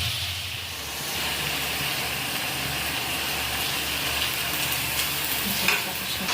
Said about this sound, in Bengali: ওদিকে সঞ্চিতা রান্না করছে, ফ্রাইড রাইস বানাচ্ছে